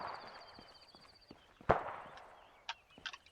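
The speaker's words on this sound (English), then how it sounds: "Oh, I'm getting shot at." Arma 3 gunfire, a single close sharp shot followed by a few fainter, more distant cracks over quiet ambient game sound.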